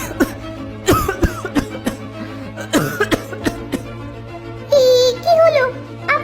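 A cartoon character coughs repeatedly in sharp, loud bursts of uneven rhythm, with a few spoken voice sounds between the coughs.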